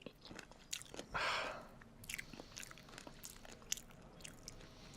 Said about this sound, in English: it's so guttural and like sharp when she's chewing